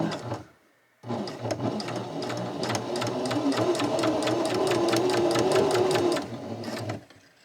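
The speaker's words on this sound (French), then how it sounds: "on vient placer la machine, on dépose le pied, on pique l'aiguille et on appuie sur la pédale" Sewing machine stitching a folded fabric hem, a close, loud continuous whir of rapid needle strokes starting after a brief pause and stopping abruptly near the end.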